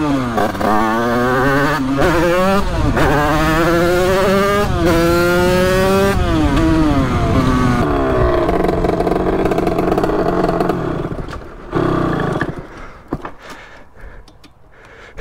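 A Sherco motorcycle engine with a blown exhaust revs hard and loud, rising and falling in repeated sweeps for about eight seconds before settling into a rougher, uneven idle that fades near the end.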